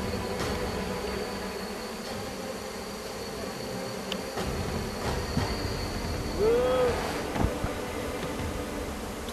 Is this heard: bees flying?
yes